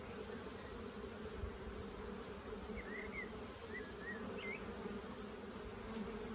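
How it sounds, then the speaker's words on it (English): Steady, soft buzzing of many honey bees, including nurse bees, close by, a continuous hum with a few faint higher chirps drifting over it. "Lovely little nurse bees here."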